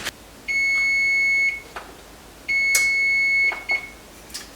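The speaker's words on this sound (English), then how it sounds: "our timer just went off on our little peanut butter tarts" Kitchen timer beeping while peanut butter tarts bake: two long steady electronic tones, each lasting about a second, separated by a pause, with faint clicks and kitchen noise between them.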